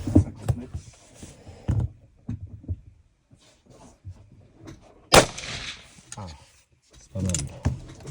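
Lever-action .44 Magnum rifle fired at a 50-metre shooting range: a few sharp shots, one especially loud and close, amid muffled range noise and people talking.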